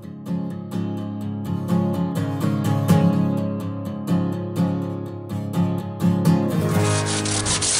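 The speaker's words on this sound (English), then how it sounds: "Sanding down the pumpkin. So trying to get it smooth as we can at this point" A large carved pumpkin sculpture is sanded smooth by hand, giving a series of rhythmic, close rubbing strokes throughout with a louder hiss near the end.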